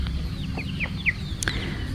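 A black naked neck hen clucks in a few short, close chirping calls over a steady low background hum.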